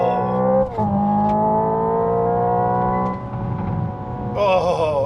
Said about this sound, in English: That acceleration experience is